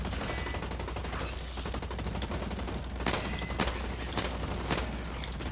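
Combat rifle fire in the shooter game Blacklight Retribution: a dense, steady bed of rapid gunfire and battle noise, with several sharper, louder single shots standing out near the end.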